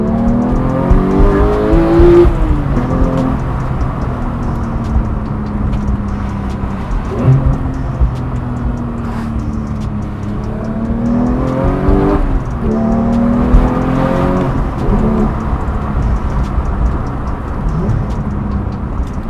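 A manual Porsche 911 GT3 engine revs and pulls through the gears, pitch climbing and dropping with each shift, loud and continuous from inside the cabin, with faint tire noise.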